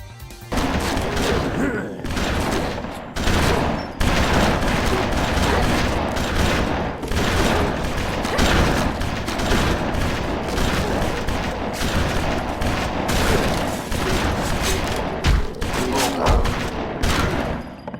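Dual guns firing nonstop in the video game BloodRayne as automatic targeting picks nearby enemies, a dense, loud barrage of rapid shots with thumping impacts running without pause.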